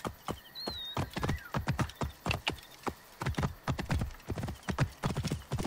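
Rhythmic horse hooves clip-clopping at a steady trot in Assassin's Creed Origins, each strike sharp and close, with a brief whinny early on and no talk over the galloping.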